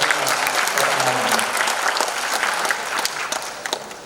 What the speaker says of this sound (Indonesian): Apresiasi dan mohon tepuk tangan untuk teman-teman Puskesmas Kota Malang.